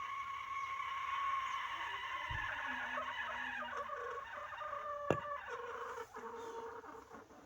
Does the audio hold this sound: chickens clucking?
yes